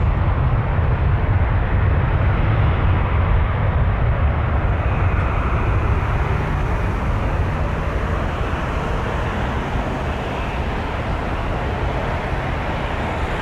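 An Air Canada Rouge Airbus A321-211 at Toronto Pearson at night fills the air with a loud, steady low-heavy jet engine roar that slowly eases, with no talking.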